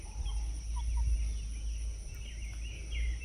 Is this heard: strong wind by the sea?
no